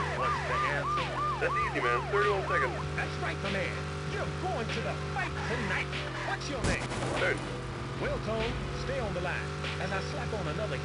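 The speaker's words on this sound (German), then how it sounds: "Und da passen wenigstens die Sirenentöne." Police sirens in the racing game Autobahn Raser 4 wail and yelp in rapid rising-and-falling sweeps over a steady engine drone, then fade and return less clearly.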